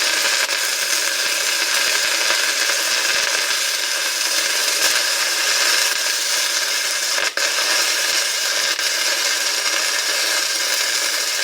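Arc welding with E6022 rod on DCEP polarity on a V-groove joint gives a steady, loud crackling hiss that runs unbroken, with one brief dip partway through.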